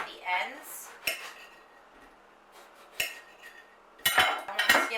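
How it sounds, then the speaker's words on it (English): A knife chops the ends off an eggplant on a board, a few sharp, separate knocks with quiet gaps between them, then a quick cluster of clattering cuts and handling noise at the end. "What we are going to do with our eggplant is we're going to cut off the ends."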